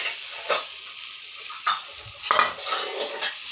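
Omelette egg mixture hits a hot pan and sizzles steadily, broken by a few sharp clinks and scrapes of a utensil against the pan; close and fairly quiet, with no talking.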